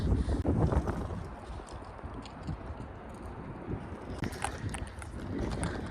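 Gusts of wind buffet the microphone in loud, low rumbling bursts, strongest at the start and again near the end.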